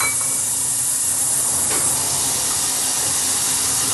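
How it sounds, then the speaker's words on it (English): Onions hitting melted butter in a pan for a burger, a loud continuous hissing sizzle that swells briefly near the middle and holds steady. "And then we're going to throw some onions"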